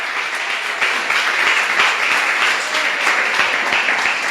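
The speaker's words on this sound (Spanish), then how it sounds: "Dale un fuerte aplauso al que vive." Church congregation during a family worship service giving loud, sustained applause, a dense and steady round of clapping from many hands lasting a few seconds.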